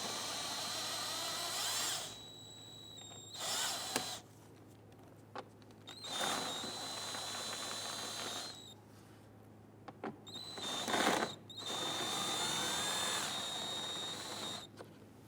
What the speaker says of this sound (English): there are three 5/16 bolts. I want to get loosen and remove these.